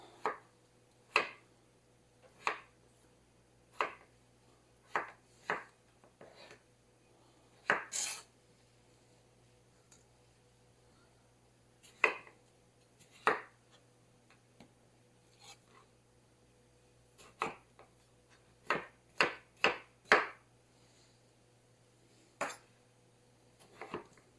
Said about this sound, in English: we're going to go to work on these potatoes. And we're not going to cut these up into real small pieces